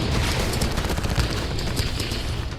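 Heavy, rapid gunfire crackles nonstop in dense bursts, loud and chaotic, with booming echoes filling the background.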